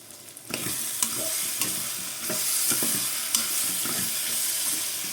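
A potato, tomato and drumstick curry simmers and sizzles in a pan, with a steady frying hiss and a few distinct stirring scrapes and knocks at intervals.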